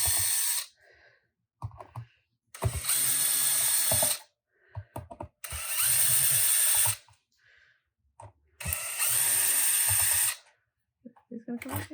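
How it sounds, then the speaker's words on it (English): A power drill or driver takes screws out of a Fender Stratocaster pickguard in three loud, close whirring bursts of a second or two each, separated by short clicks and handling noise, with people talking between them. "I'm also just going to go ahead and remove these screws."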